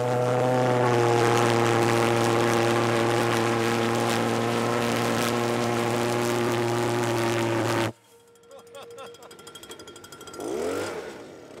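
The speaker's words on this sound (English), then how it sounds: "This is definitely the most elaborate way I've ever seen to start an engine." A large engine roars at full power with a deep steady drone, then abruptly cuts out, leaving quieter clicks and rustling.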